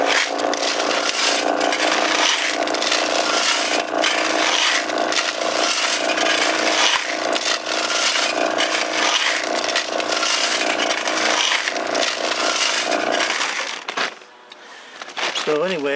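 Gravel tumbling inside a small gas tank to grind out rust, a steady, dense rattling and scraping wash that runs continuously and loud, then cuts off near the end.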